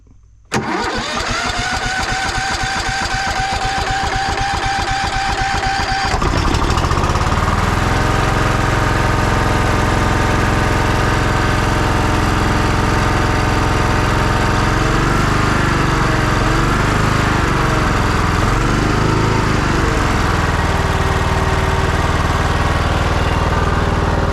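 Cub Cadet riding lawn tractor engine cranks over with rhythmic chugging, then catches and runs loud and close, its steady throaty drone wavering slightly as the revs shift.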